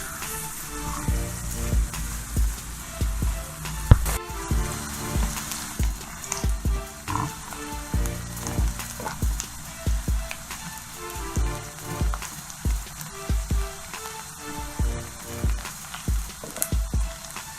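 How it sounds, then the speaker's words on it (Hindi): Onions sizzling and frying in a pan while cooking masala bhindi, a steady close crackle with soft repeated stirring clatters throughout, no talking. "हल्का फ्राई कर लिया प्याज को मैंने"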